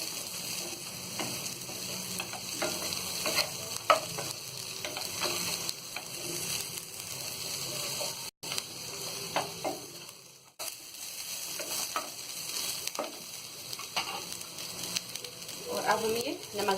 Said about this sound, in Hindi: और इसे भी थोड़ा तल लेंगे।